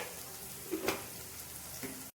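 Ginger garlic paste hitting onions frying in a pan: a steady hiss of sizzling with a brief louder crackle as it goes in, faint and close.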